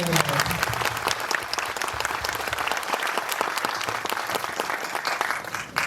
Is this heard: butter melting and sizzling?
no